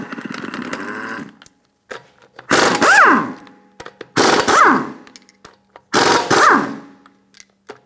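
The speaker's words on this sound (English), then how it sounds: "remove the lug nuts" An impact wrench spins lug nuts off a Honda Accord wheel using a 19mm socket, with three loud, separate bursts of buzzing rattle, each rising then falling in pitch, split by short quiet gaps.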